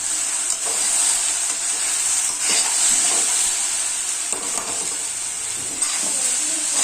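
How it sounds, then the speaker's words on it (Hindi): Okra and potato with chili powder fry and get stirred in a pan: a loud, continuous sizzle and hiss up close, with intermittent scraping stir strokes throughout. "अब इसमें मिर्ची पाउडर और इसे अच्छे तरह से मिक्स कर लेंगे।"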